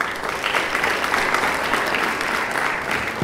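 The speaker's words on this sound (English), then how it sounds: "A round of applause, guys." A round of applause from the audience at a youth roundtable closing address, steady dense clapping throughout, moderately loud and sustained with no voices over it.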